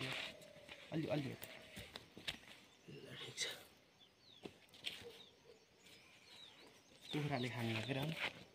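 Village chickens pecking and feeding near drying radish greens, scattered soft clucks and pecking taps with faint rustling, while people talk nearby in bursts.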